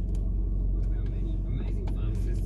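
A Hyundai Getz being driven, with a steady low engine and road rumble heard from inside the cabin, faint voices or noises on top.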